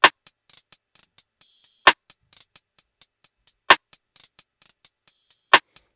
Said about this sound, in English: And then an open hi-hat came in next.